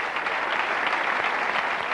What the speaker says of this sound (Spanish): Por favor, el aplauso generoso del pueblo y del público de Sueca.